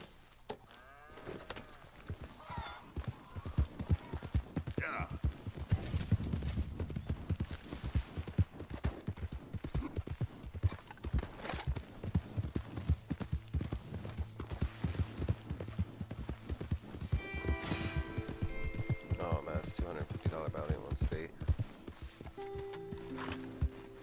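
Steady hoof clip-clops from several horses in Red Dead Redemption 2 trot along at a brisk rhythm, moderately close, with faint clinking and no talk.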